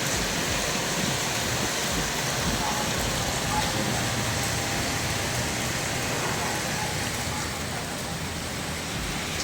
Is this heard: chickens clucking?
no